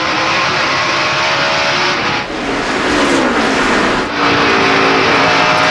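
NASCAR stock cars roar past on a racetrack during a 2002 race, a loud continuous engine drone with two brief dips as cars pass, no talking heard.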